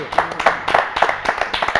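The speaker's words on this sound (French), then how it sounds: "Applaudissements pour Michael Jacob" A studio audience claps for Michael Jacob in steady, rhythmic unison, close and loud, with evenly spaced beats about every quarter second and a little voice underneath.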